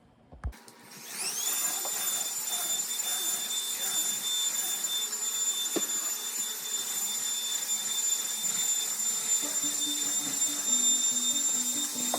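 A household vacuum cleaner runs steadily nearby, its motor spinning up to a constant high whine that holds for the whole stretch, with faint background sounds underneath.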